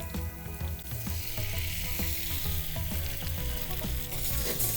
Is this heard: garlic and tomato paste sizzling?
yes